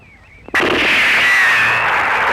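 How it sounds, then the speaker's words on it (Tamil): A single loud gun blast is fired in celebration, a sharp close bang that gives way to a long, sustained roar and hiss. "என்ன குண்டு முழங்க எங்களை வாழ்த்துறீங்களா?"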